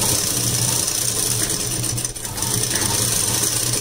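Sewing machine stitching a blouse runs with a close, steady mechanical whir and fast rhythmic clatter, briefly dipping mid-way before resuming, no one speaking.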